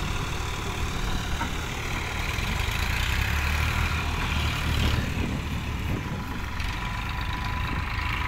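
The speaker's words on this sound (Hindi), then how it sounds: "ट्रैक्टर निकलने लगा है।" Eicher tractor engine driving out of a puddled field with the PTO switched off, a continuous low, rumbling drone at moderate distance, fairly steady with slight swells.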